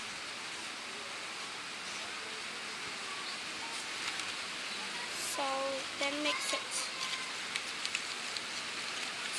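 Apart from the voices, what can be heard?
rain falling outside on a rainy day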